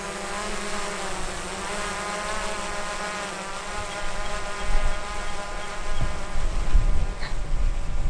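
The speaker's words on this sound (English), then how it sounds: "I'm just going to put the drone straight up to the height where the messages are getting sent" A drone climbs overhead on an overlanding trip in Pondoland, South Africa, giving a steady, insect-like buzzing whine that grows a little louder and rougher near the end, with faint outdoor noise beneath.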